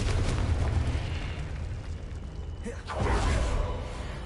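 A Confringo blasting spell from Hogwarts Legacy goes off as a loud, rumbling explosion burst. A second booming blast follows near the end.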